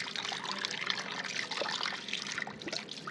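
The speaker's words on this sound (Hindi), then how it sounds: "ये दोनों के लिए पानी भर लिया, चिक्स का भी और लव बर्ड का भी" Fresh water pours and trickles steadily into the water bowls of lovebirds and chicks, a close, continuous splashing with no talk.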